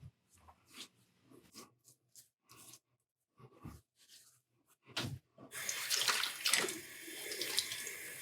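Water splashed and rinsed over a face after a wet shave with a safety razor, with soft intermittent splashes and dabs at first, then a steady running-water rush near the end.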